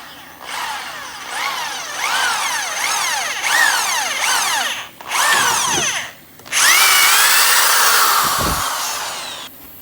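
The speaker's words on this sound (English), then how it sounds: "we're again going to drill the rubber bushing out from around here" Loud power drill whining in repeated bursts, drilling out a rubber bushing from a 1978 Ford Mustang control arm, the pitch rising and dropping as it bites in, with short pauses between runs.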